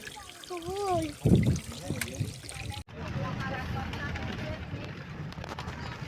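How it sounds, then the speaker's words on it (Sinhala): Clean spring water trickles and runs at Riverston, a steady close stream that continues alone after a voice speaks briefly at the start. "මේ තියෙන්නේ දියුල්පතකින් එන පිරිසිදු පානීය ජලය"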